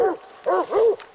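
Bluetick coonhounds bark and bay at a treed raccoon in three loud bursts, close by, with short pauses between, voices rising and falling in a howling chop.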